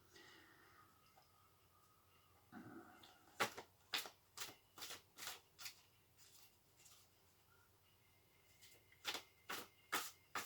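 A run of crisp, rapid clicking bursts in uneven clusters as tarot cards are riffled and snapped together, close and fairly loud against a quiet background.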